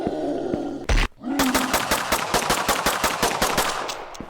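Rapid automatic gunfire in a zombie video game as a large zombie boss is shot, with a burst of fast, evenly spaced shots after a brief loud hit and a short groan, loud and close with no talking.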